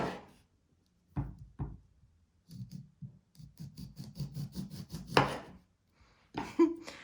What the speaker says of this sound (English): You're going to slice off the ends.